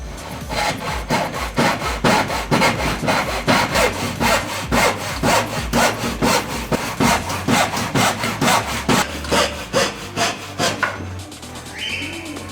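A hand saw cuts a 45-degree angle in a Durafloor wooden baseboard with fast, even back-and-forth strokes, loud and close, before the sawing stops near the end.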